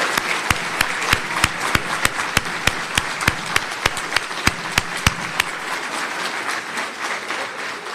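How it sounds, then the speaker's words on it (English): Audience applause at a medical school white coat ceremony for an osteopathic class, a dense wash of clapping with sharp individual claps standing out near the front, steady for several seconds and easing slightly toward the end. "Let's have a round of applause for the white coats of the class of 2025."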